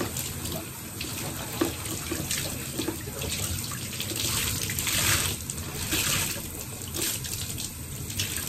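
Running tap water splashes steadily into a sink as a cleaning cloth is rinsed under the faucet, a continuous close hiss with shifting surges as the cloth moves through the stream; no one speaks.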